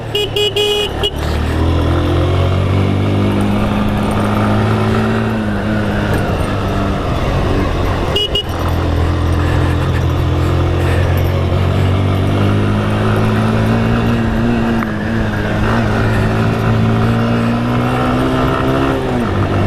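Royal Enfield Himalayan motorcycle engine on a ride in Nepal, suspected of a failing coil or dirty carburettor, laboring at low revs: a loud, continuous close-up drone that rises and dips as the throttle opens, with no talk.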